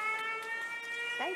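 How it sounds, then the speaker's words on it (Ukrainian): Air raid warning siren in Ukraine, a steady droning wail held throughout the short stretch at moderate distance, with a brief voice-like sound near the end. "звуки сирени, що сповіщує про повітряну тривогу"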